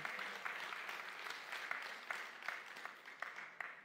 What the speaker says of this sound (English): let's give the best clap offering to our dear Lord for this afternoon